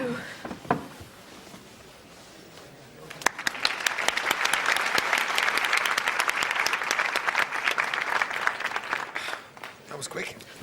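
An audience applauds in a theatre, the clapping breaking out after a few quiet seconds with faint talk, then holding steady and dense for several seconds before tapering at the end.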